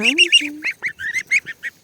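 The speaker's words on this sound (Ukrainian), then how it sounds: "Бавляться собі гусяточка." Young geese give a quick series of high, nasal honks and peeps, close and loud, in short bursts with brief gaps between them.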